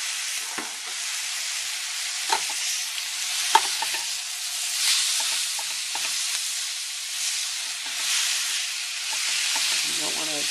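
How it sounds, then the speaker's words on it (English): Cooked spaghetti squash sautéing in butter in a pan, a continuous bright sizzle with occasional soft scrapes of stirring throughout. "You're just going to saute it to kind of give it that a little more of the butter flavor."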